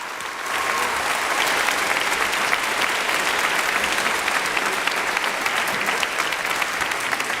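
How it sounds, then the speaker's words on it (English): A crowd at a high school fall concert held in a Pasadena church applauds, with dense, sustained clapping that holds steady at moderate volume for several seconds without voices above it. "give them a round of applause, please"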